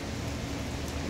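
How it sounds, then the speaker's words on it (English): Rain falls steadily in South Florida, a continuous even hiss of drops on surfaces filling the background without pauses or talk. "I don't know if you can see it, you can hear it, but it is raining"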